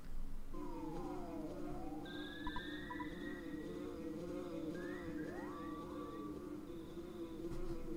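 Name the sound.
buzzing of the bee Buzz Buzz in video game Earthbound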